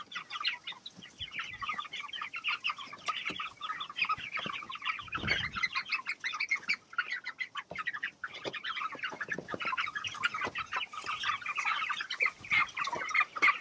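Farm chickens on a pasture-raised poultry operation cluck and squawk in a dense, agitated chorus, with sharp bursts of wing flapping and scuffling as birds are grabbed, fairly close and continuous.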